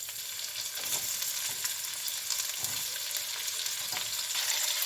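Cumin seeds frying in hot oil on a stove, a steady close, bright sizzle with faint crackles and an occasional stir, no talking.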